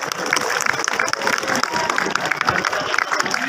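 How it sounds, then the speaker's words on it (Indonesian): An audience gives lively applause for students of class 12 after a school performance, dense continuous clapping with some cheering, loud and sustained throughout. "Boleh dong tepuk tangan sekali lagi yang meriah untuk kita"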